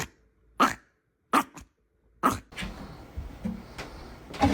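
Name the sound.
Chihuahua dog barking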